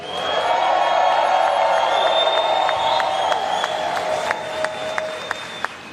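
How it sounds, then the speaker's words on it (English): A crowd inside a building at a Hunts Point press conference with the mayor claps loudly and steadily for organized labor, with cheers and a few whoops over the dense applause, which thins toward the end. "if we can have a loud round of applause for organized labor here in the building"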